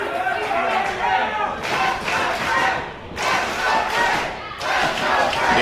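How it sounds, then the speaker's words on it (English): Raucous wrestling crowd at the Orpheum arena roars and cheers in surging waves during a championship match, with rhythmic clapping and shouts rising and falling throughout. "You hear the Terminator 2 claps for Brian Cage, but you also hear the raucous crowd here at the Orpheum getting behind champion Fred Yehi"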